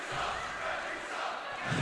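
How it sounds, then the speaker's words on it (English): A high school basketball crowd at a Hermits game booing and shouting in protest of a foul call, a dense sustained roar of many voices filling the gym. "the Hermits crowd does not like that one."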